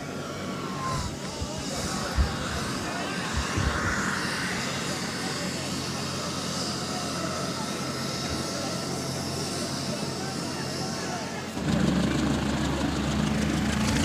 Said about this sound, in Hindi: और अब यहाँ से हेलीकॉप्टर हो रहा है टेक ऑफ।